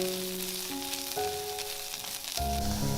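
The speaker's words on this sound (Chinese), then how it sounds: "把梅菜干放进来炒香" Dried preserved mustard greens stir-frying in a generous amount of oil in a saucepan, giving a close, steady sizzle with a continuous hiss throughout and no voices.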